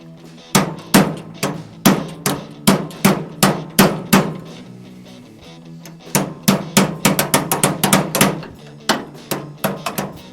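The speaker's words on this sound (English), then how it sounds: "I'm just going to smack it with a ball peen and see if that can clears up some room" A ball peen hammer strikes metal on a classic truck in a steady run of sharp, ringing blows, with a short pause midway before a faster burst of hits resumes close by.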